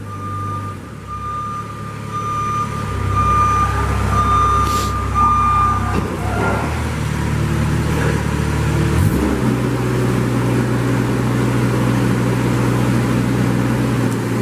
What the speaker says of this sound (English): Now Carrie's gonna drive it a little bit and show you how nice it works